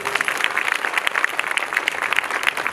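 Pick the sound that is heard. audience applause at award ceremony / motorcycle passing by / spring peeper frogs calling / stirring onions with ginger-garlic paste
audience applause at award ceremony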